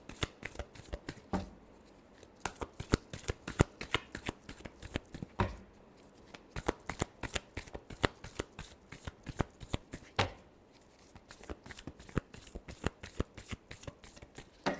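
Tarot cards being shuffled in a long, steady run of crisp riffling bursts and soft slaps, close and loud, with only brief pauses and no talk.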